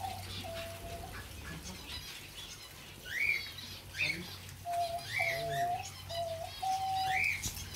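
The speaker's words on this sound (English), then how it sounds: "probably a little bit too many birds for this small space" Several birds coo and call intermittently over a steady low hum, some calls short and rising, others held notes, fairly close by.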